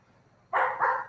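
A pet dog gives a couple of quick, close barks in a home while its owner takes its blanket from the couch, after a quiet moment, with a brief pause between the two bursts.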